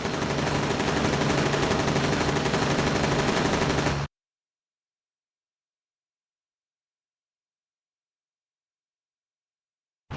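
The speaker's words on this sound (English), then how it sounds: "A few bursts of machine gun fire should do it." Rapid machine gun bursts from an aircraft in the combat flight game Air Conflicts: Secret Wars on PS3, loud and close, a dense rattle for about four seconds and then sudden silence.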